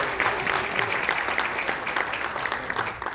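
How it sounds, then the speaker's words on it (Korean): An audience at a regional medical association general meeting applauds a guest introduction, a steady, even patter of many hands clapping for a few seconds in a reverberant hall. "큰 박수 부탁드립니다"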